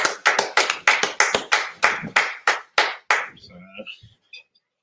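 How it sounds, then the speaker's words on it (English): About a dozen sharp, loud claps in a quick steady rhythm at a religious teaching gathering, then tapering off into a few faint taps and near silence. "Get that priest and prophet a round of applause"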